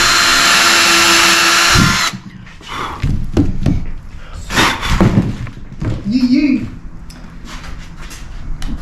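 A power drill fitted with a 9mm bit drills holes to mount an APR Performance front splitter on a BMW Z4: a loud, steady whirring burst at the start, followed by knocks, thuds and handling noises.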